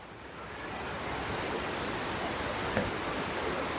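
Mountain stream water pouring out near a hill village in Kullu, heard as a steady, broad rushing wash that holds close and even throughout, with no voices.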